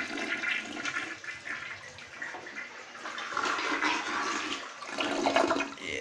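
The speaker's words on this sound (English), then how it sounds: "Let's flush it." A household toilet flushing close by in a large house during cleaning: a steady rushing, swirling gush of water that runs throughout and swells toward the end.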